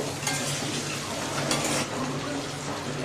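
Eggs lightly frying in a pan, giving a steady soft sizzle and crackle throughout with faint stirring scrapes, close by and without talk.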